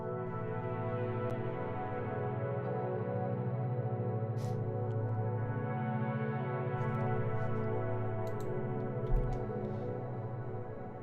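Sustained synth pad run through an auto filter, compression and two Valhalla Room reverbs, a dense, evenly loud wash of held harmonic tones that swells gently across the whole stretch with no voices.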